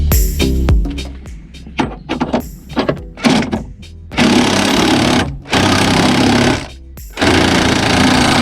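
Power tool compressing a suspension spring on a Peugeot 206, loud stuttering bursts first, then long sustained buzzing runs broken by brief pauses, close and alone.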